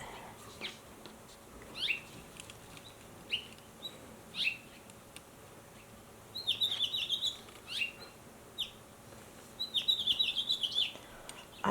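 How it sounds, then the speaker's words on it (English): Several small birds chirp outdoors in the morning, bright quick tweets arriving in short bursts with pauses between, fairly distant over a quiet background hiss. "I have some birds visiting me this morning."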